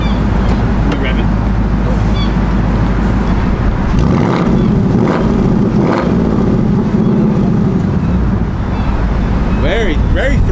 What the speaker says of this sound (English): Can we rev it?